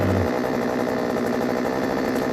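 A small two-stroke Einhell Royal RBK4645 chainsaw engine runs steadily right after being restarted with the choke pushed in, a loud, continuous idling drone close by with no talk.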